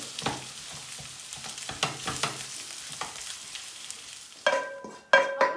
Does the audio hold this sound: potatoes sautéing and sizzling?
yes